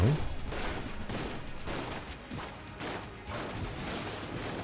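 Membrane gun firing in the video game Enter the Gungeon, a dense, continuous burst of loud rapid shots and impacts with no pauses.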